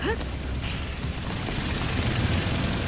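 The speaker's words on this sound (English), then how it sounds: "I'm sorry if you heard my air conditioner come on" Room air conditioner switching on indoors, a broad steady whoosh and hum that fills the room with constant noise from start to finish.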